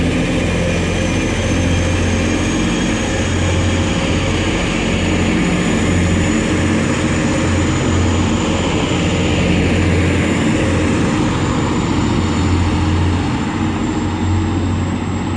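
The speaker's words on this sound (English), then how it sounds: "departing now is going to be the 1147 Transpennine Express service to Manchester Piccadilly" A TransPennine Express train to Manchester Piccadilly departing Dewsbury station on the Huddersfield Line, heard as a loud, steady low engine drone with rumbling hum that holds continuously for the whole stretch, with no talking.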